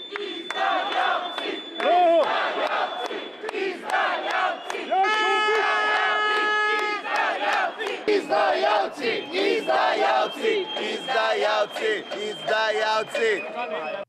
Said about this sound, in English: Those who supposedly fight against hatred then chanted watchwords that brimmed with hatred for the new government.